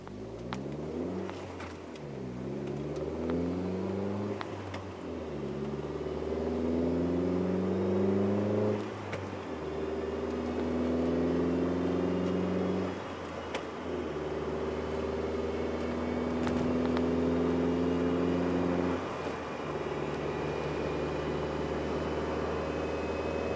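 Chevy Sonic fitted with a ZZP turboback exhaust, driven through repeated gear pulls: engine note climbing through several rising revs, each cut by a brief drop at the shift, loud and close with no talking.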